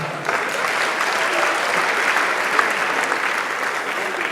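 An audience claps steadily and densely throughout, a sustained loud wash of applause at a comedy show with no break.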